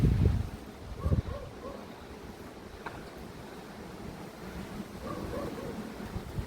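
Strong hurricane-force wind buffets the microphone outdoors with deep, rumbling gusts, strongest at the start and swelling again near the end.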